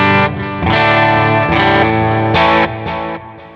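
Electric guitar played through a Line6 POD GO amp preset modelled on a favourite amplifier, heavily processed with distortion and chorus; several sustained strummed chords ring out in turn, loud and close, with no talk.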